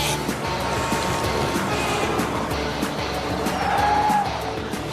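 Cartoon racing cars speed through a Grand Prix, with engines roaring, tyres squealing and rapid whooshes of passing cars layered into a dense, busy wash of race noise.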